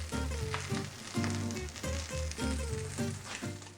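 A sloppy joe grilled cheese sandwich fries in a pan, its second side browning as the cheese melts; soft, continuous sizzling with a faint rhythmic hum beneath, quiet and steady, without speech.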